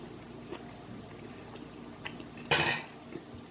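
Shrimp and vegetables served onto a plate, quiet kitchen ambience with faint utensil taps and one brief clattering scrape of a serving spoon against the dish, close by.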